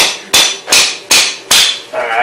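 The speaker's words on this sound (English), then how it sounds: "That's the hammer." A hammer strikes sharply during a hybrid water heater installation, four or five loud, close metallic blows at a steady pace with ringing decay between them.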